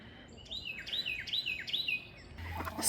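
Birds sing on a spring morning in a garden with a peach tree after days of heavy rain, four clear repeated whistled phrases in close succession, fairly near, followed by a brief rustling burst, with no talking.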